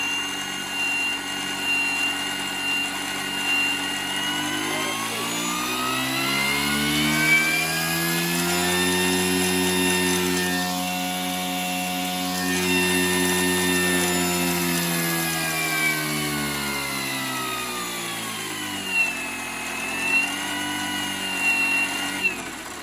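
An RC Bell 412 helicopter's rotors spin at idle with a steady, close electric whine and a rotor hum whose pitch rises and falls slowly, continuous throughout with no talk.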